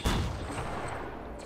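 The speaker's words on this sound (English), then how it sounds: "I just got killed with a suppressed pistol" A single suppressed pistol shot in Fortnite, set in a Gotham City map: a soft, muffled pop at the very start that fades quickly into quiet game ambience, with no talking.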